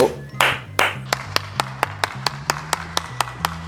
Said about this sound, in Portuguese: Eu tô aplaudindo o Lula.